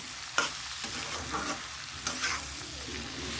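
Potatoes being stirred and fried in a pan for an aloo bhaja, with a steady close sizzle and a few sharp scraping knocks of the spatula at irregular intervals.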